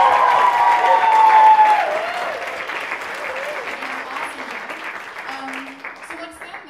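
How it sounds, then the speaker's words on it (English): Loud audience applause at a college a cappella concert, dense clapping with some cheering and whoops that gradually thins and fades, with voices calling out over it. "we could just get another round of applause for that fabulous female trio of Elena, Jamie, and Justine."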